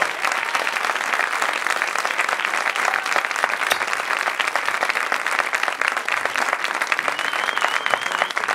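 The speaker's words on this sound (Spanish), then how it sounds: "un fuerte aplauso" A crowd claps after a live cover of a song, dense, brisk applause filling the whole stretch at steady loudness, with a faint tonal line riding above it near the end.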